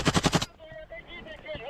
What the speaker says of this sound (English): we now see them firing at some kind of a dugout in the trench